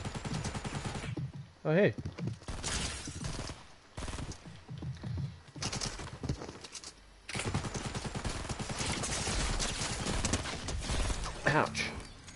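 Bursts of SMG fire from another player in Fortnite ring out in rapid clusters across the stretch, loud and close, with a brief spoken exclamation between them.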